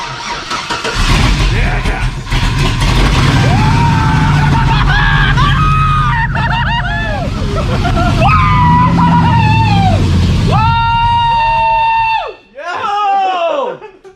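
A Jeep Comanche with a swapped-in V8 cranks and fires up, settling into a loud, rough running roar that holds steady for most of the clip before a brief dip and surge. Voices call out over the engine.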